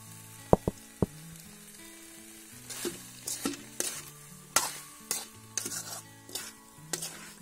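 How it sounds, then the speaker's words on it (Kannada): Grated coconut, already fried, is stirred into chicken sukka in a pan: a spoon scrapes and knocks against the metal in irregular strokes over a soft, steady sizzle, with no voices. "ಈಗ ಫ್ರೈ ಮಾಡಿದ ತೆಂಗಿನ ತುರಿಯನ್ನು ಹಾಕ್ತಿದ್ದೀನಿ"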